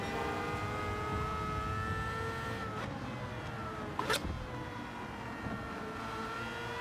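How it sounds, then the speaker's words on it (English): A Mazda 787B race car at the Barcelona circuit in Gran Turismo 7 gives a quiet, steady, whining engine note that bends in pitch as it revs, with a brief sharp burst of noise partway through. "787B you can listen to all day. Just the noise on that."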